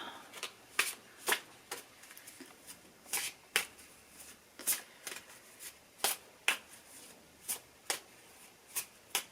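Crisp, repeated riffling bursts of a card deck being shuffled, quiet and close, with short pauses between each shuffle.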